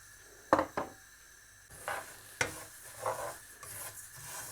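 Seeds dry roast in a pan while being stirred, producing faint scattered scrapes and rattles in irregular bursts over a quiet background.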